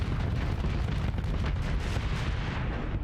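Spaceship weapons firing in the Starsector space combat game, a dense, loud, continuous barrage of booming blasts and rumble with no clear gaps.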